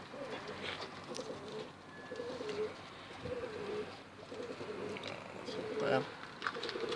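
Iraqi blue pigeons cooing in repeated soft, throaty phrases at moderate distance, mixed with other bird sounds and a voice talking over them in a hot outdoor setting.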